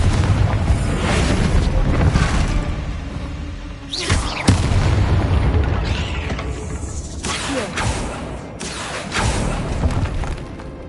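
The Confringo fire spell goes off in a Hogwarts video game, a loud booming blast with a crackling, rumbling tail, set within dense continuous game sound.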